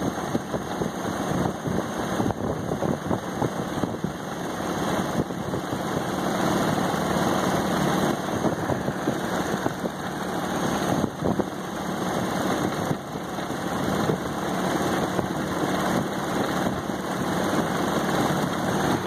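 A Honda R18 Civic car engine converted for aircraft use, fitted with an intercooler, runs on a test stand, a steady, loud, dense roar spooled up to about 3,000 rpm and held evenly throughout, with no voices.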